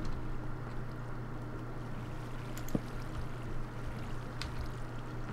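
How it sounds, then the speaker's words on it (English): Steady rushing water from a waterfall in the video game Minecraft, a constant broadband wash heard alone, with a brief click partway through. "Ooh, cool waterfall."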